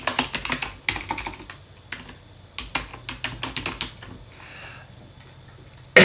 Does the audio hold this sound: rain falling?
no